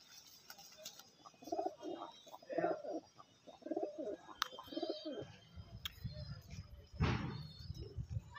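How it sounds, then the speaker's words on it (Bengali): Old-breed pet pigeons coo in a loft, a series of soft, low, throaty calls repeating in bursts at close range, with some chirps and faint rustling around them. "দাদার কিছু পায়রা দেখুন, সব পুরনো ব্রিডের পায়রা দাদা"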